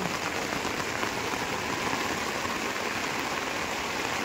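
Rain pours steadily outdoors during a heavy downpour, a dense, even hiss of drops on surfaces with water running nearby, constant and unbroken with no voices.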